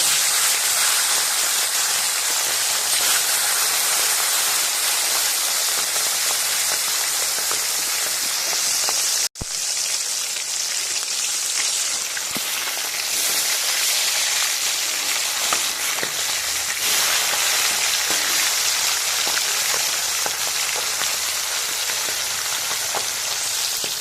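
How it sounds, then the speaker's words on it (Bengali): Pomfret fish fry in hot oil in a pan, giving a loud, dense, unbroken sizzle for the whole stretch with only a momentary dip, and no voices. "গরম হয়ে গেছে, মাছগুলোকে আমি ভেজে নেব।"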